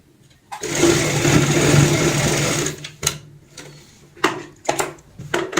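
Sewing machine stitching the zip seam of a heart-shaped cushion cover, a loud close burst of motor run for about two seconds, then sharp intermittent clicks and knocks of handling the machine and fabric.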